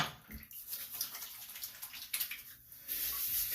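Shaving brush head being wetted with soaking bloom water for a pre-shave, a quiet, close splashing and trickling sound with soft irregular drips and swishes throughout.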